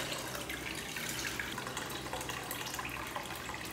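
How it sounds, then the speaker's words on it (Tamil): Water pours steadily into tamarind and tomato for rasam, a continuous close splashing, trickling flow with no talk over it. "இப்போ தேவையான அளவுக்கு தண்ணி ஊற்றிக்கலாம்."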